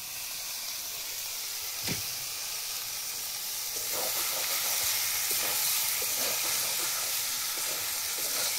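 Pieces of eel fish (kuche) frying with spices in a pan, a steady hissing sizzle with occasional stirring scrapes, moderately quiet and continuous.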